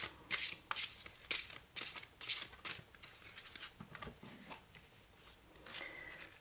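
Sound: handling and shuffling large oracle cards

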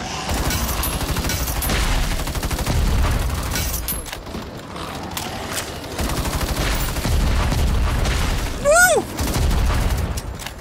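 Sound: explosions and gunfire in video game Battle Teams 2

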